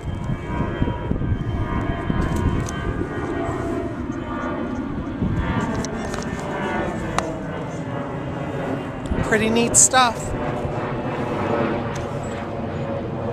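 Airplanes passing overhead at night outdoors, heard as a steady, broad, rumbling roar that fills the whole stretch while someone talks over it.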